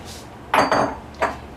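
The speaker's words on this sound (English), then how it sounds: "So, you get your bowls." Baking bowls, including a batter bowl, set down on a kitchen counter for homemade bread: three close knocks with a brief clinking ring, then quiet.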